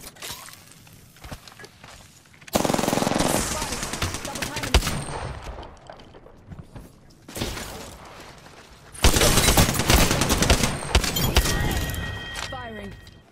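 Apex Legends gunfire: loud bursts of close automatic weapon fire in two long stretches, with sharp cracks and breaking shield sounds between quieter gaps, and in-game voice lines speaking over the shooting.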